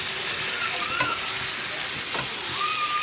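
Chicken pieces, about a kilogram, sizzle steadily in a hot pan while a spoon stirs and scrapes through them, with brief scraping sweeps over the continuous close frying hiss and no talking.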